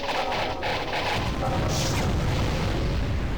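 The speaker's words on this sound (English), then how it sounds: "He's shooting fireballs, that's not good." Fireballs launched by an enemy wizard in the Magic Carpet video game, a continuous roaring, booming rumble of blasts and crashes that stays loud and dense throughout with no break.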